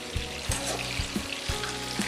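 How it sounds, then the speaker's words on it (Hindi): Chicken pieces half-frying in hot oil, a continuous bubbling sizzle broken by regular soft knocks or stirs roughly every half second, close and moderately loud with no voices. "हम इसे जब हाफ फ्राई करेंगे तो 2 से 3 मिनट ही हम इसको पकाएंगे"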